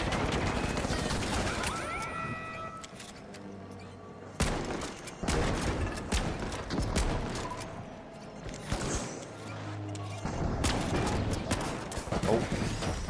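Repeated bursts of turret gunfire in a zombie-infested Earth video game, loud volleys cutting in and out over continuous game noise, with a voice talking in between.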